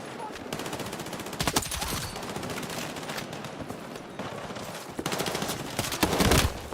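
Rapid automatic gunfire from the video game Battlefield 6 crackles in dense, sustained bursts with short pauses, loud and close, with brief speech mixed in.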